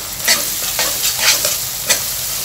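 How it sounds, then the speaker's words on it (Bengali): Onions and ginger-garlic paste are stirred in a sizzling frying pan, with four or five distinct scraping strokes over a constant close fry and no talking. "এখন আমি পেঁয়াজের সাথে আদা রসুনের পেস্টটা একটু ভালো করে মিশিয়ে নিচ্ছি।"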